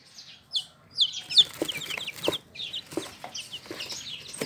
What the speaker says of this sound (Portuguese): Coloquei aqui nessa caixinha para mostrar para vocês